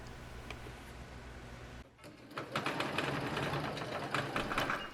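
A sewing machine stitches a dress bodice to its skirt, starting after a brief pause with a steady, close, rapid mechanical whir and ticking that runs continuously to the end, no voices.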